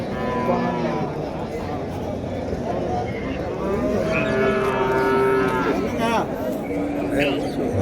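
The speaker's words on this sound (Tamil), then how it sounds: "இன்னைக்கு கொஞ்சம் நாட்டு மாடுங்கள்லாம் கொஞ்சம் ஜாஸ்தியாக நம்மளால் வந்து பார்க்க முடியுது" Native cattle mooing at a cattle market in Uthangarai, with several long, loud lowing calls rising over a busy din of crowd chatter and background activity.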